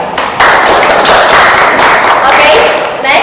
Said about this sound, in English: Give applause to Yusia.